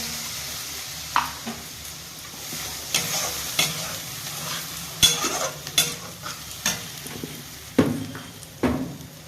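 Fish curry masala stirred and sautéed in a pan for a Bengali baspapda fish dish, with a steady sizzle under repeated scraping strokes of the spoon, several sharp clinks, and no voices.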